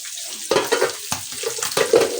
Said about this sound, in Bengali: এই যে পুঁটি মাছ কেটে ধুয়ে এখন ভাজতেছি